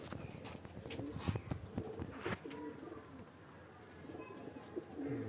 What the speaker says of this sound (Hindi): ओ फिर कबूतर।